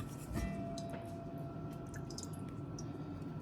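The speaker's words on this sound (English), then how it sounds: "There was actually quite a bit of juice left, so was definitely worth draining." Juice drains from canned fruit for an ambrosia salad, a soft trickle and faint drips close by, with a small squishy knock near the start and a low background hum throughout.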